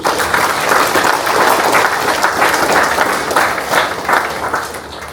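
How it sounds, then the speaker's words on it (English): Loud, sustained round of applause from an audience at a ceremony welcoming the K250 million Harbourside South Marriott, with dense clapping filling the room evenly throughout and tapering only slightly at the close. "let's give a round of applause to Marriott"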